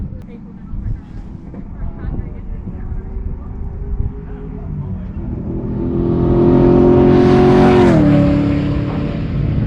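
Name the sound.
car skidding at a race track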